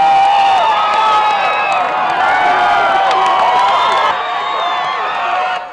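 Crowd of graduates at the 1980 San Diego State University commencement, a dense continuous roar of cheering voices that holds steady and loud, easing slightly toward the end.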